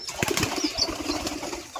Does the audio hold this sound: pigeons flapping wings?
yes